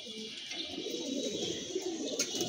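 Pigeons coo softly on a rooftop loft, a steady low murmur of calls with faint chirps above it, at moderate distance.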